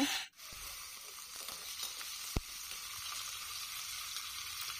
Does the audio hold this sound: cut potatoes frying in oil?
yes